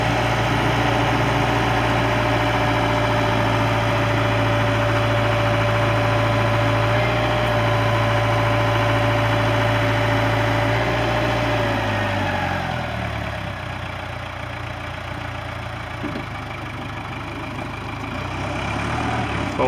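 A 1996 Sky Trak 5028 telehandler engine idles steadily and loud with a low, even diesel drone; the tone drops and softens about two-thirds of the way through, then holds at a quieter idle.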